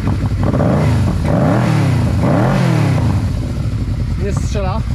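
A Yamaha XVZ 1300 Venture motorcycle engine idles and revs smoothly after carburettor tuning, rising and falling in a couple of swells close by, with someone talking over it.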